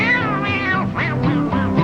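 In a barn dance song about a farm cat, a singing voice imitates a cat's meow with drawn-out, wavering mewing tones over the band's accompaniment, loud and close.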